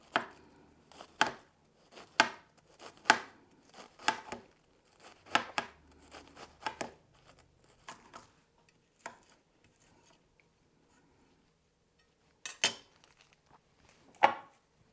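Lettuce for enchiladas verdes is chopped with a knife on a cutting board in quick bursts of crisp, close thuds, pausing briefly before a couple of final chops.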